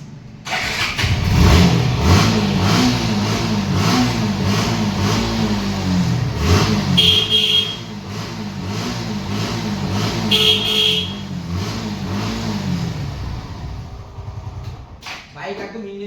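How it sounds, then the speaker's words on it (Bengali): A second-hand Suzuki Gixxer sport bike at a Kolkata showroom starts up close by, then idles and revs with rising and falling engine pitch for several seconds before settling. "বাইক একবার স্টার্ট করে দেখিয়ে দিচ্ছি ভিউয়ারদের।"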